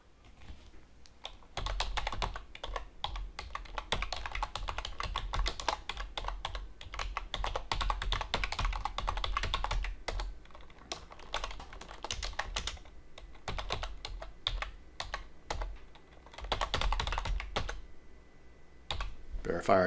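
Rapid, continuous clatter of keys on a computer keyboard, close and steady, with brief pauses between bursts of typing.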